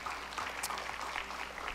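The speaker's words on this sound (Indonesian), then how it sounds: "Berikan tepuk tangan buat Sondang." Audience applause for a drummer friend at an online church service, a steady, moderately loud wash of clapping lasting under two seconds with no voices over it.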